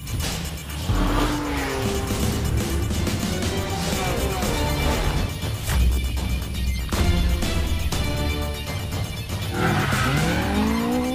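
Loud Formula 1 race car engines roar and whine past, with shifting pitch sweeps and tire squeals, continuous and close throughout.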